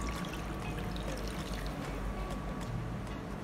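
Sauce for a Korean dish, made with ginger, pepper and water, poured into a wide pot or pan over meat, giving a steady close liquid pouring and trickling sound with no talk.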